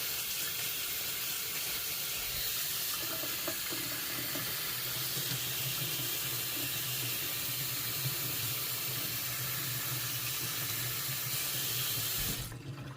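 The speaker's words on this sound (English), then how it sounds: "now all I'm going to do is take just a little cold water on it" Cold tap water runs steadily through a strainer of popcorn, a continuous close splashing rush that lasts throughout and cuts off abruptly near the end.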